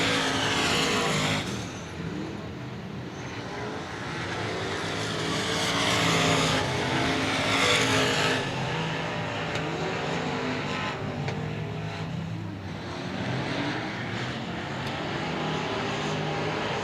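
Sport mod race cars at Cotton Bowl Speedway roaring past on the final laps of a heat race, engines swelling and fading as they pass, loud and sustained with no talk.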